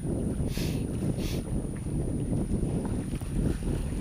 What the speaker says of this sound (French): on fait route sous voile depuis 2h, 2h30